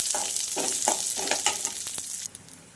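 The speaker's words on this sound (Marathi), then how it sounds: "यावर तेल घालून चांगली फुगेपर्यंत आपल्याला ही भाजायची आहे" Flax seeds roasting in oil in a pan, a bright crackling sizzle broken by several scraping stirs of a spatula, close and loud, easing off near the end, no voices.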